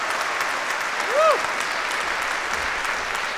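Audience applause at the finale of a Georgian singing contest, a broad steady wash of clapping from a large crowd holding even for the whole stretch, with a brief whistle-like tone rising and falling partway through.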